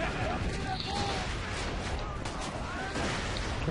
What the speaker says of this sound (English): There's so much explosions happening.